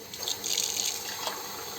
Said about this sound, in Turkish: ben şimdi örnek olarak musluktan doldurdum